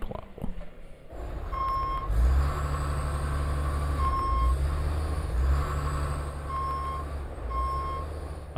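A snow plow truck reverses with a loud, evenly spaced electronic backup beep repeating over a heavy idling diesel engine, with a brief hiss and clunk at the start.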